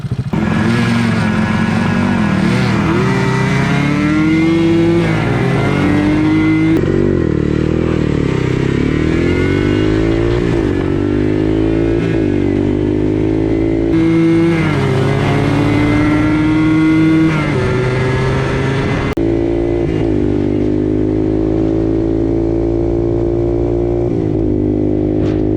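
Two ATVs, a Honda 200X and a Yamaha Blaster, drag racing with loud, sustained engine noise that climbs and drops in pitch through repeated revving and gear changes, close and continuous throughout.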